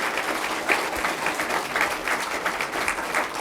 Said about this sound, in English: Please give Dr. Allison a round of applause.